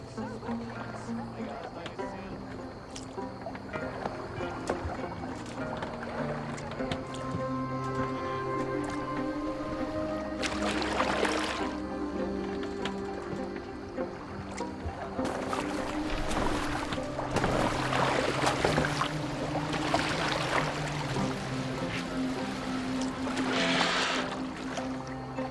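A boat being rowed in the Assassin's Creed Valhalla video game, a soft continuous wash of water with louder sloshing bursts midway and near the end, under a low steady musical drone and spoken dialogue.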